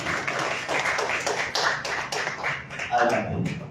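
Audience applause for two invited poets at a poetry reading in a library hall, a dense spread of claps running steadily throughout at moderate volume, with a few sharper nearby claps standing out.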